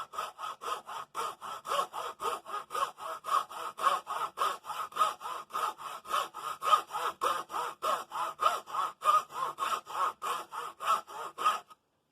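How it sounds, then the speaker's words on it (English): A fine hacksaw with 24 teeth per inch cuts stiff brake lining for a Gibson tractor brake band in steady back-and-forth rasping strokes, about three per second, close and clear, with no talk. "I think a hacksaw is going to work just fine."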